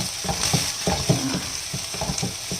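Fried rice with three-layer pork and egg sizzles in a pan while a utensil stirs and tosses it, giving repeated close clanks and scrapes over a continuous frying hiss.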